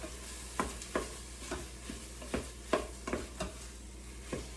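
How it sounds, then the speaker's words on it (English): Bean soup ingredients browning in an Instant Pot are stirred with rhythmic scraping strokes, roughly a dozen, over a steady low sizzle, close and fairly quiet with no talk. "Give it a stir. And we want this to cook for about 1 minute until it's getting a little bit kind of browned and caramelized."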